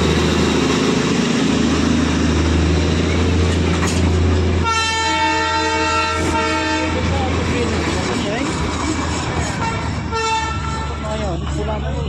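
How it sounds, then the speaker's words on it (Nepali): The Darjeeling toy train rumbles past with a steady low engine drone, then its horn sounds in a long, bright blast with a second toot, voices faintly in the background. "सो टोय ट्रेन दार्जिलिङको है"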